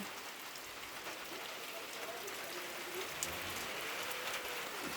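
Steady, dense rain pouring down, a constant broadband hiss with scattered drops hitting nearby surfaces.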